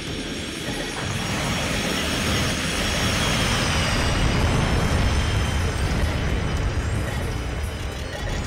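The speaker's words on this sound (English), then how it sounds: "Enemy bomber approaching." An enemy bomber aircraft in Armored Core 2 approaches with a loud, steady jet-engine roar that swells slightly and holds throughout, broadband and continuous.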